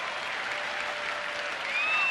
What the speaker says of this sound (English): Oriole fans applauding for that third out.